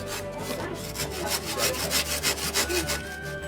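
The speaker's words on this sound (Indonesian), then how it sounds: "Setelah diukur sesuai dengan panjang tangganya, bambu dipotong-potong dengan gergaji." A hand saw cuts through small bamboo lengths for ladder rungs, giving steady rhythmic back-and-forth rasping strokes, close and fairly loud, with no talk.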